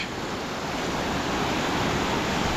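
Ocean surf breaks on a beach in a dense, unbroken roar of crashing water and wash, loud and steady with a slight swell toward the end.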